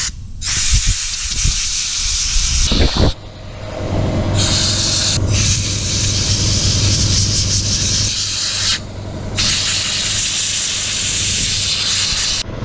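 Loud compressed air blasts hiss close by, cleaning an air filter from a Kymco scooter, coming in long sustained bursts with short pauses between them and no talk.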